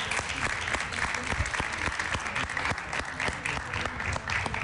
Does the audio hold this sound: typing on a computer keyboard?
no